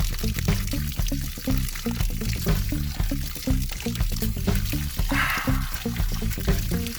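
Cold natural spring water pours steadily into a tank at an off-grid water source, a loud, continuous splashing gush close by with a churning, bubbling low rumble and no talking.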